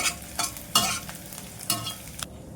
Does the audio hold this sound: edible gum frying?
yes